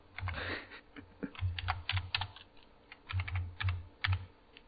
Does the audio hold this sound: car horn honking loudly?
no